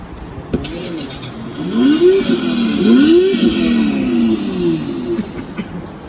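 A car engine starting and revving, its pitch sweeping up and down in several rising and falling surges, loud and close with a steady mechanical drone beneath and no talking.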